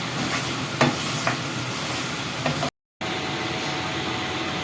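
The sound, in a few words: beef karahi frying and stirred in the pan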